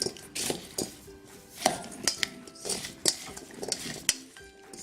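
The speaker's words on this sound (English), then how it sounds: "I'm just gonna give that a good stir." A spoon stirs tandoori potatoes with olive oil in a bowl, giving repeated clinks and scrapes against the bowl in an irregular rhythm, close and moderately loud.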